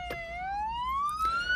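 A police siren wails, its rising tone sweeping steadily upward, loud and fairly close, with a couple of brief clicks in the background.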